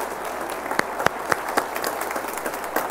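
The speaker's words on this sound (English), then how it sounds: "How about a round of applause," A church congregation applauds at a morning service, a steady wash of many hands clapping with a few sharper, louder claps standing out, held at an even level throughout.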